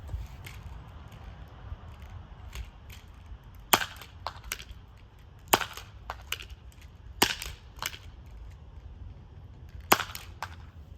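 Several Nerf Horseman blasters firing foam darts in a timed challenge, giving sharp, irregular snapping pops spaced across the stretch, some in quick pairs, over a quiet background.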